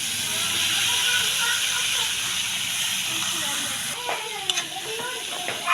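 Steady, loud hissing steam from a pot of pinakbet as vegetables go in, a continuous sizzle filling the scene, with a few faint clinks and scrapes near the end.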